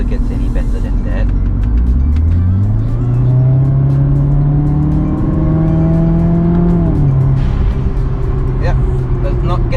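A Subaru Impreza WRX with an automatic CVT accelerating hard, its loud engine note climbing steadily in pitch for several seconds, then dropping at a shift before rising again, close and dominant while people talk over it.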